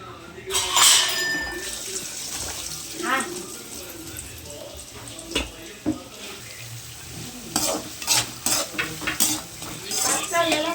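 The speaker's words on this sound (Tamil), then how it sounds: "வெங்காயம் நல்லா வணக்கணும். நல்லா கொஞ்சம் பொன்னிறமாக வர வரைக்கும் ஃப்ரை பண்ணுங்க." A utensil scrapes and clatters against a pan in repeated stirring strokes, with a soft sizzle underneath.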